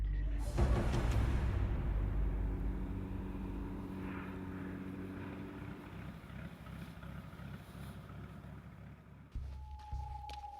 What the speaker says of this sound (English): our float plane just took off